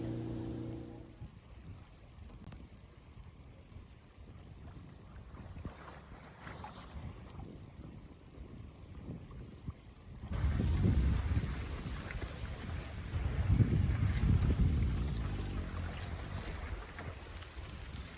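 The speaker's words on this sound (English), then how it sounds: "The wind's filling in just enough." Wind rushing over a Buccaneer 18 sailboat during a Memorial Day regatta race, a low steady buffeting that swells into louder, rumbling gusts partway through, with no talking.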